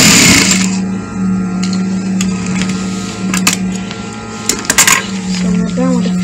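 A sewing machine stitches the seam of a box pleat skirt in short bursts, its steady mechanical whir starting and stopping with clicks and handling noises, while a person talks over it.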